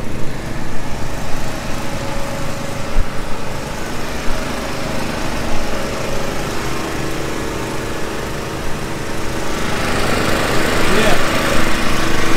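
Rented portable generator running at a motorcycle trackday paddock, a loud, close and steady engine drone that holds throughout and grows slightly louder toward the end.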